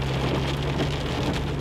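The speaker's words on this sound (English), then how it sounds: "When it does rain in Kenya, it's torrential." Torrential rain pouring down in Kenya's Rift Valley: a dense, unbroken roar of heavy rainfall, loud and close, with no pauses throughout.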